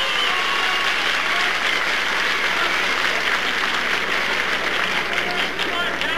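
A 1962 wrestling match crowd roars and applauds in a continuous dense wash of clapping and cheering, while a commentator's voice carries over the noise.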